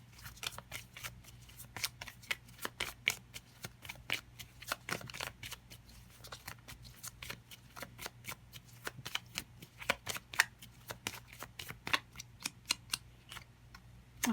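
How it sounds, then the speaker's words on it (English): Tarot cards being shuffled, a dense run of crisp riffling snaps and flicks, close-up and continuous over a low background hum. "let's see if I can get two of these little cards here"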